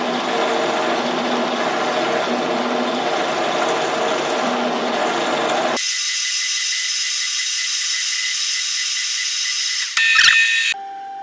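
A 16 mm diameter counterbore, 13 mm deep, is cut on a holder prototype: a dense grinding machining noise runs steadily, then shifts abruptly to a higher, thinner whine before ending in a few short mechanical clunks.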